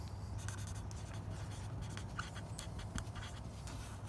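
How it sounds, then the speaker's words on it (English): Pen scratching out letters on a plant label while propagating magnolia, a soft continuous scribbling with short strokes, close and quiet over a steady low background rumble. "So I'm gonna write Magnolia."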